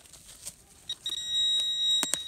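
A metal detector gives a thin, steady electronic beep that rises and holds, with a couple of sharp clicks near the end, while digging for Civil War relics outdoors.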